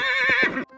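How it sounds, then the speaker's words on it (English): A horse gives a short, loud whinny that cuts off abruptly, close and clear with no talking. "horse."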